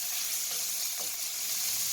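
Bacon pieces fry in a hot pan with a steady, close, continuous sizzle and crackle, with no voices.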